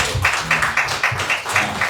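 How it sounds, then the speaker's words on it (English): An audience at a commemoration event for ending obstetric fistula claps in rhythmic, pulsing bursts, several quick even beats of group clapping heard up close and fairly loud, with no talking over them. "Please, let's clap for him"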